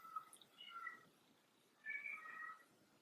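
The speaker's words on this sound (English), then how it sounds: "There's a cat screaming outside my door." A kitten screams outside a door: two drawn-out, wavering yowls separated by a short pause, muffled and moderately faint as if heard from indoors.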